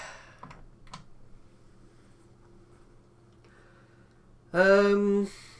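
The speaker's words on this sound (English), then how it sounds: "Keyboard seems to be working." Keys tapped on a grey ZX Spectrum +2 home computer, a few sparse, faint clicks against a quiet background, ending with a short loud tonal burst near the end.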